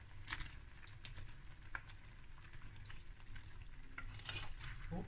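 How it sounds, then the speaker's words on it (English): Pasta being added to a pan and stirred, with a soft sizzle underneath and scattered scraping and clinking of utensil against the pan, close and fairly quiet. "add the pasta, make some spices, some room."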